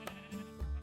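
A sheep in Minecraft, on a rainbow sheep farm in the Feed The World modpack, lets out one short bleat, quiet and alone with no voices over it.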